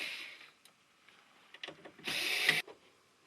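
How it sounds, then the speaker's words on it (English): Screws come out of a Venue SC48 mixing console's fader panel, with short bursts of a small power screwdriver's whir, quiet clicks and taps, and one longer buzzing run, all faint and close. "Remove all 18 screws holding the fader panel assembly."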